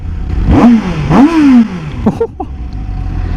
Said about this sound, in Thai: เดี๋ยวเบิ้ลเครื่องให้ฟัง